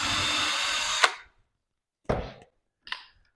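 A power drill pre-drills hinge holes for a Kreg hinge jig: one steady whining run that stops with a sharp click, followed by two short bursts of drilling, close and loud with nothing else around.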